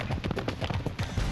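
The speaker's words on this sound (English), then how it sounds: "Meet Dante and Cuba, both Lusitano horses from Portugal." Lusitano horses from Portugal, ridden by stunt riders in England, trot with a quick, even clip-clop of hooves, close and fairly loud.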